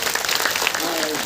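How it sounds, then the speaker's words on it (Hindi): Audience applause at a religious gathering with a swami: a brief burst of dense clapping from a crowd, with voices mixed in. "जाओ ताली बजाइए"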